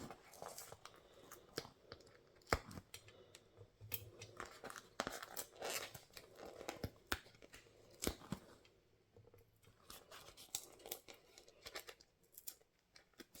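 Scissors snip paper repeatedly at close range, a series of short crisp cuts with irregular pauses, fairly quiet.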